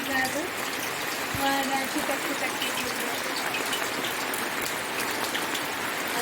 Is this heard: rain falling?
yes